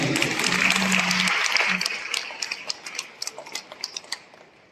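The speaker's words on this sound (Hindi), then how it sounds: "युवतियां, हमारी बेटियां, बहनें, जोरदार ताली बजाइए" Audience at a Christian talk on parents and children claps for the young women: a dense burst of applause at first, under a brief voice, then thinning into scattered, distinct individual claps that fade out.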